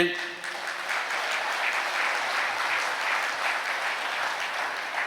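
A church congregation claps together in a steady run of applause for several seconds. The clapping sounds even and moderately loud, with faint voices under it.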